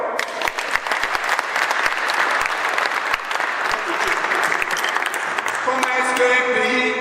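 A large crowd claps loudly and steadily at an interfaith prayer gathering for peace in Côte d'Ivoire, the dense applause filling the space throughout, with a few voices rising over it near the end.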